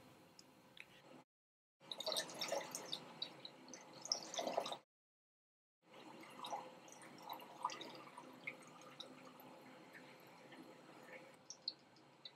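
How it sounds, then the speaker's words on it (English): Drilling fluid mixed with water is poured across a fine sieve screen in a sand content test, giving a soft, close trickle and patter with a short silent gap between bursts. "Shake to mix the drilling fluid and the water, and pour this across the screen"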